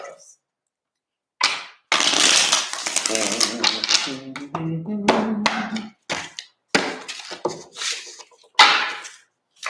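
Tarot cards shuffled by hand during a mini reading, with sharp riffling and snapping bursts broken by short pauses, close to the microphone, while a voice hums or sings intermittently.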